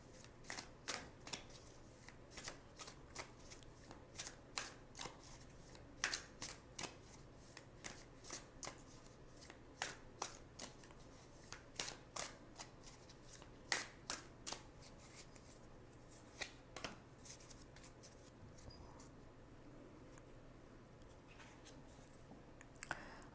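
Osho Zen Tarot cards are shuffled in a quiet room, a long series of soft, crisp riffling flicks and slaps coming in irregular bursts, close and faint, with no talking.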